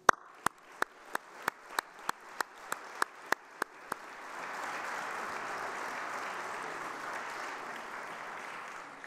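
Members of a French assembly in session applaud; a dozen evenly spaced sharp claps open the sequence before a soft, sustained wash of distant clapping rises and holds until the end.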